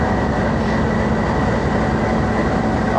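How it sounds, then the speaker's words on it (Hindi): Passenger train on a Pakistani rail line, running toward Rawalpindi, with a steady loud rumble of rolling stock and wheels on track throughout, no voices. "9:24 पे ट्रेन रवाना हो रही है 101।"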